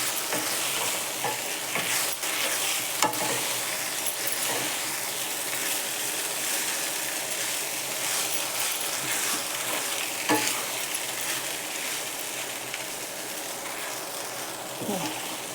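Poha sautés in a pan under a soft continuous sizzle, with a spoon scraping and tapping against the metal in an irregular rhythm throughout and no talking.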